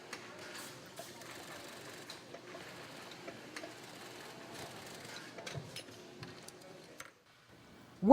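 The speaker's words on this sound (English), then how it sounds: "using a special heavy-duty sewing machine" A heavy-duty industrial sewing machine stitches a pack frame to a scuba BCD body through the back pad, giving a steady mechanical ticking rattle at moderate level, then a brief louder burst at the end.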